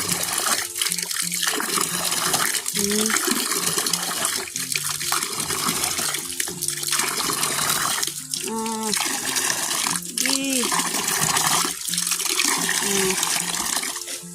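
Water gushes steadily from a small pump at a well on cleared land. It keeps up a continuous splashing flow, and people talk loudly over it throughout.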